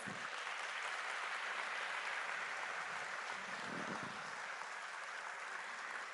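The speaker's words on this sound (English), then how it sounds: "come on, I think another round of applause." Audience applause at a live talk event on nationalism in Chennai, a steady wash of clapping that holds evenly for several seconds without voices.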